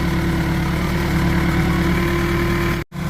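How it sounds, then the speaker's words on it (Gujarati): A steady, low tractor engine idle drones throughout with a constant rumble, briefly cutting out near the end. "ટ્રેક્ટર લઈને આવ્યા છે"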